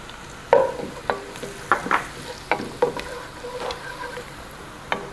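Tomato paste with browned onions, cumin, coriander and mixed spices fries in a pan, with soft sizzling under a series of distinct scraping strokes from a stirring utensil, spaced about half a second to a second apart.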